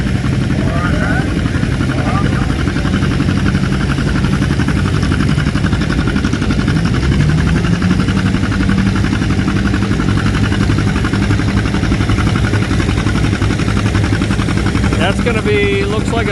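A John Deere tractor runs at a tractor show with a loud, steady engine rumble and chugging throb, joined by other machinery noise throughout.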